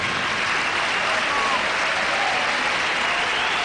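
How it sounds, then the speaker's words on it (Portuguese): A stadium crowd at a Benfica football match applauds Markovic as he is substituted off, a dense, steady roar of clapping that holds loud and continuous throughout. "Muito aplaudido, Markovic, como é de resto audível."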